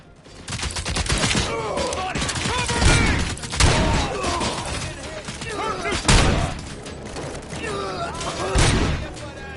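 Repeated gunfire bursts crack through a loud Robocop: Rogue City firefight, with thuds and mechanical clanks mixed in and shouted voices over the shooting.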